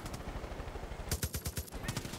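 Rapid gunfire aimed at a helicopter in Far Cry 5, bursts of quick shots layered over a steady low rotor drone, fairly faint and continuous throughout.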